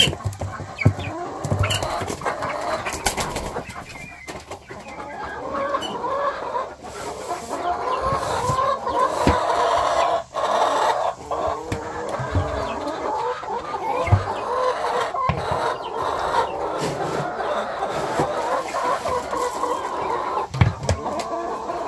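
Hungry backyard chickens cluck continuously and fairly close, a dense flock of overlapping calls with an occasional louder squawk, while a person moves around them.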